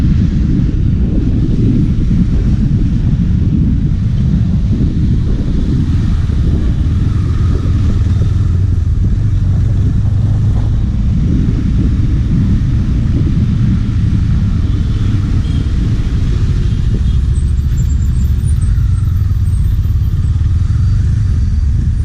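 A KTM Duke 390 motorcycle, BS6 version, riding along with a steady, loud low engine rumble and some wind buffeting; quick-shifter gear changes between second and third are not clearly separable.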